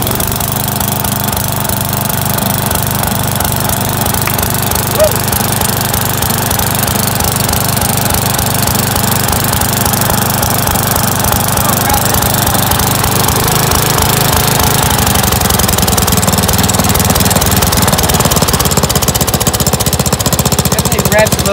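A 1989 Dynamark 11/36 lawn tractor engine runs steadily and loudly the whole time, a rough, chugging drone with a faint voice underneath.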